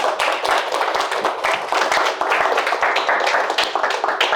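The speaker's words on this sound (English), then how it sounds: "can we give Dr. Notes a big round of applause?" A room of listeners gives a steady round of clapping for a guest speaker after a talk on Stirling engines and geothermal power, many hands slapping densely and evenly for about four seconds with no voices over it.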